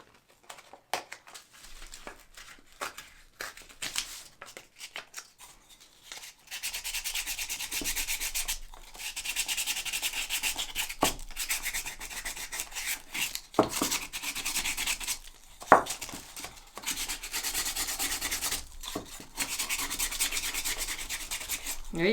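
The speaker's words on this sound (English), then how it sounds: "we're gonna take some sandpaper here. Let me use this one. Let's see how that one's gonna work. And we're just gonna scuff it up." Sandpaper scuffs over the surface of an aged pot in steady, close strokes, a dry broadband rasping that starts sparse and quiet, then runs continuously with uneven pulses and a few sharper scrapes, no voices.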